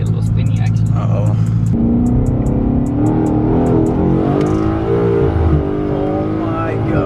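A Nissan R35 GT-R pulls hard on cold tires, its loud engine droning and climbing in pitch from inside the cabin while people in the car talk over it.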